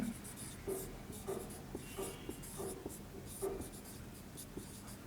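Pen scratching on paper while a physics vector formula for the angle between two vectors is written out, repeated short strokes across the stretch under a faint background.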